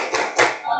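Students in a classroom economics lesson clap hands together in a quick rhythmic chant, two sharp claps close together and loud, with no talk.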